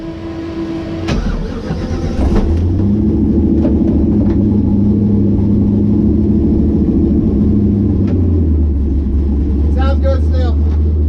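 A drag car engine idles loudly with a steady low rumble, rising after a sharp start and running continuously, with a few faint clicks and voices in the background.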